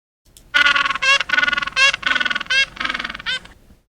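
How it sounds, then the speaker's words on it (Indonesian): Penguin call from Google's animal sounds feature, a run of loud nasal squawking bursts in quick succession, close and alone with no talk. "Ada yang pernah mendengar suara penguin seperti itu?"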